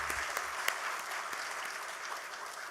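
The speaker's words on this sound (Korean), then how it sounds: "여러분 다시 한번 박수 부탁드리겠습니다." Applause from the audience at a hospital dedication ceremony at a Yonsei University medical campus, a steady wash of many hands clapping at moderate distance, fairly even throughout with a few louder individual claps.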